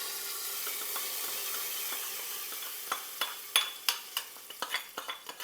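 Tomato dal being stirred with tempering in a pot, a soft sizzling hiss at first, then a rapid series of wet scraping spoon strokes close by.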